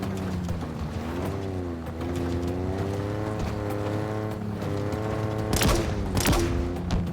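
Gunfire in the Halo Infinite video game, bursts of shots over a steady droning vehicle engine whose pitch rises and falls, with two sharp louder blasts near the end.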